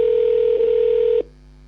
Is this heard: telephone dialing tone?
yes